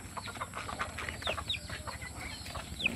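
Chickens clucking close by as they peck feed from an open palm, a busy overlapping stream of soft clucks and a few higher squawks over a constant background hum.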